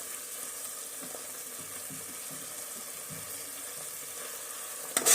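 Chopped tomatoes fry in a pan for egg biryani, giving a soft, steady sizzle with light intermittent stirring scrapes and a brief louder clatter right at the end.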